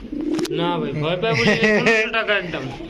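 Pigeons, including high-flyer breeds, coo at a busy pigeon market, heard faintly beneath close, continuous talking by a man.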